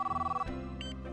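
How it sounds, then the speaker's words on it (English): A telephone bell rings in a fast rattling trill for about half a second and then stops, loud and close, against a low background hum. "the phone rang"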